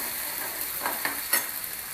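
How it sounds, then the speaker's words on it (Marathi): Onion sautéing in a hot pan for ragda chaat, a continuous close sizzle broken by a few brief stirring scrapes, with no talking over it. "कांदा चांगला परतून घेऊया."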